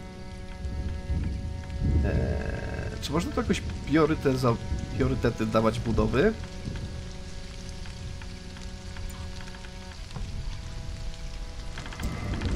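Steady rain hisses through the game Stranded: Alien Dawn as a constant background wash, while someone talks over it for several seconds.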